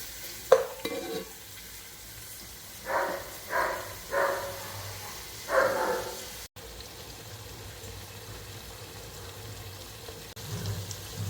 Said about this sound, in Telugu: ఇది కొంచెం వేగిన తర్వాత పచ్చిమిరపకాయలు పేస్ట్ వేసుకుందాము.